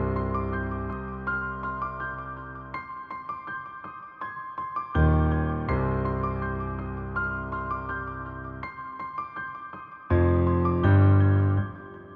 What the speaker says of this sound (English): pitched it up a couple octaves to kind of add that high-pitched piano to it